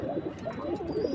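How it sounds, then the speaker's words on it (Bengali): Pigeons coo steadily inside a loft housing a flock of racing pigeons with paired birds and chicks, the soft low warbling calls overlapping continuously at close range with no talking. "আর নর্মালি এখানে সব কবুতরগুলো আছে"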